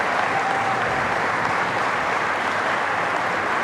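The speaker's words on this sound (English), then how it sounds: "Can you give them a big round of applause" Closing-session audience at a Django tech conference applauds steadily, a dense, even wash of clapping that holds at full strength throughout with no talk over it.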